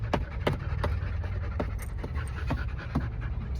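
Guard dogs at an off-grid desert property pant heavily, a rapid rhythmic series of close, breathy huffs continuing without pause.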